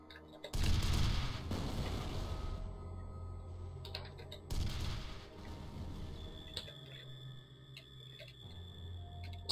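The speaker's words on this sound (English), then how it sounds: "Throw and dodge all of these rockets." In the shooter game F.E.A.R., rockets and grenades explode in two heavy booming blasts with rumbling decay, followed by fainter clicks and ticking game sounds, fairly quiet overall and with no talking.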